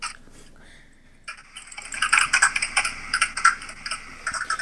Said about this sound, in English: I- am typing stuff into the computer